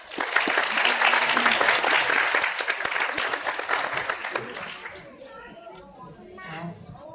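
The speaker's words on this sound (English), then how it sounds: "Everyone, big round of applause." An audience of adults and children at a drone and robot dog demonstration claps loudly for a volunteer, the dense applause fading after about five seconds into chatter and children's voices.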